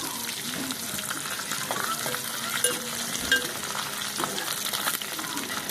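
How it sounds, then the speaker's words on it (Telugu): Cashews, almonds and dried red chillies fry in a pan of hot oil for a restaurant-style palak paneer, giving a steady, close sizzle with light crackles and stirring that runs unbroken throughout. "ఇవి వేగుతున్నాయి కదా, ఈ ఉల్లిపాయలు కూడా వేసేసుకున్నాం"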